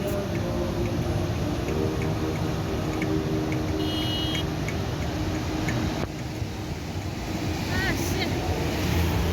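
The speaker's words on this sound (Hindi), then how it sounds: "ये जो काली नदी है इसमें जितना भी पानी बह रहा है वो ग्लेशियरों से पिघल के आ रहा है।" The Kali river, fed by glacier meltwater, rushes continuously near Dharchula on the Adi Kailash road, a loud, steady broadband roar of flowing water with faint ticking sounds.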